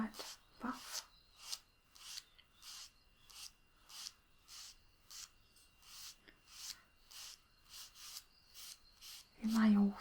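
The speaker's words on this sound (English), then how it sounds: "Now I'll just give them a very" Light buffing of filed fingernails with a nail buffer, a soft rhythmic rasping in short repeated strokes, steady and close, with a brief low thump near the end.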